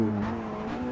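A V8 race car engine in the Assetto Corsa racing game holds a steady, buzzing drone with strong harmonics and a slight pitch drop at the start, close and sustained, with no talk.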